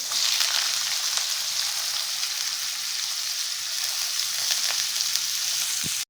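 Carrots fry in refined oil in a pan for homemade noodles, giving a loud, continuous sizzle that runs unbroken with no talking.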